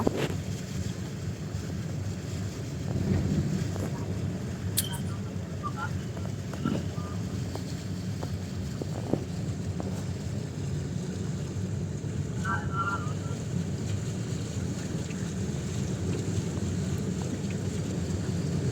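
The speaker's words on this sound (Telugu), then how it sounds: "ఏ విధంగా ఉందో చూడండి గాయస్ ఫుల్ అలలు అయితే వస్తున్నాయి" Floodwater waves rush and churn across a flooded highway in a steady low roar, wind buffeting the microphone, as a voice speaks occasionally over it.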